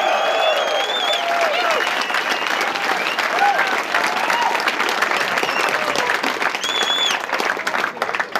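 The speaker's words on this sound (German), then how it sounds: "Und wie klingt hier der Applaus, wenn der Vortrag der geilste der Welt war?" Loud, enthusiastic applause fills a hall at a science slam, a dense continuous wash of clapping with scattered whistles and cheering voices rising over the crowd throughout.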